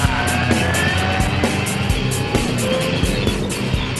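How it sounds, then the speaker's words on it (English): A US Marine Corps EFV amphibious tracked vehicle drives on a beach, with a loud, steady mechanical roar and repeated clanking thumps from the tracks running through the whole stretch. "this amphibious tracked vehicle, or Amtrak, gets to shore, it just keeps on moving"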